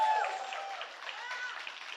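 Audience applause at a film trailer launch event, a soft steady wash of clapping heard at a distance, with a voice briefly over the start.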